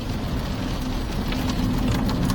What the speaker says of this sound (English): Yeah, the rain is bad.